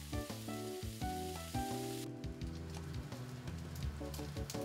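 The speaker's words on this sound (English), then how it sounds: "After flipping, increase heat to medium and cook uncovered for about 2 minutes." Okonomiyaki sizzles steadily in an uncovered pan on medium heat, a continuous close frying crackle that stays loud throughout, with background music running underneath.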